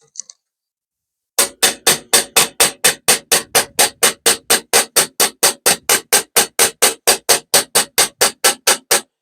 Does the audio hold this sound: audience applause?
no